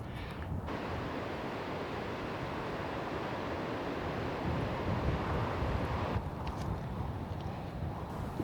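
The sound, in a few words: strong wind on a canyon bridge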